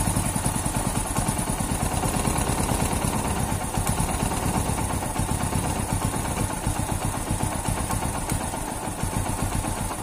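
A Hero Splendor Plus motorcycle engine idles after its RPM screw is adjusted, a steady, close, even putter with a fine rhythmic clatter throughout.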